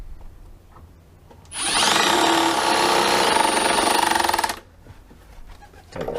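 A power drill drives a screw into decking timber for a window box, a loud steady whirring burst of about three seconds that rises and cuts off, with quieter handling noise before and after.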